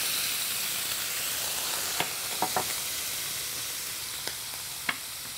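Scallops sear in a hot pan with a splash of white wine, giving a steady, close sizzle. A few sharp pops and spits rise above the hiss, and no one speaks.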